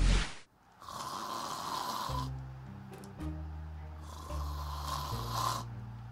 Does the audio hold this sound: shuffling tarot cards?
no